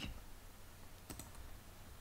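A single faint click, like a keypress or mouse click, sounds once in a quiet room while code is run in the Microsoft Access VBA editor, over low steady background hum.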